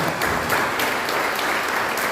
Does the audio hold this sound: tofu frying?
no